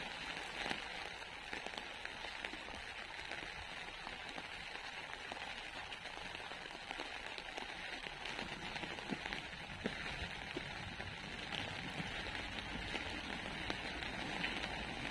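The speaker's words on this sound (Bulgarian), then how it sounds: "започва по-силно да вали" Steady rain pours on an open seaside terrace in a sea garden, a dense continuous hiss of drops hitting the surface that stays constant throughout with no voices.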